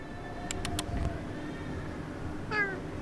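A cat meows a few times on a street in Istanbul, short mewing calls near the start and another meow near the end, over a quiet outdoor background hum.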